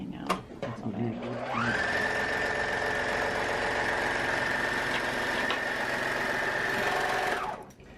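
Serger running steadily for about six seconds, a dense continuous whir with a bright high whine, starting after a brief bit of handling noise and stopping near the end; someone talks around it.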